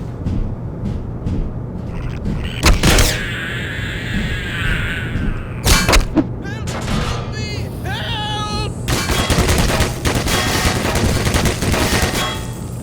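Gunfire from a gun in Black Mesa comes in sharp, loud bursts, with several distinct shots and a sustained stretch of rapid fire toward the end over a steady background hum.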